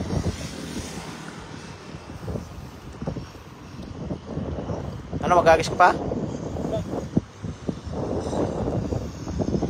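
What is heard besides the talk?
fishing boat motor running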